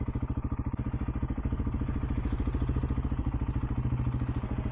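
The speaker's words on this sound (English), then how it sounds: "Let's see where I can park this motorcycle." A motorcycle engine idles steadily up close at low speed while being parked, its rapid even pulsing continuing throughout with a little mechanical clatter.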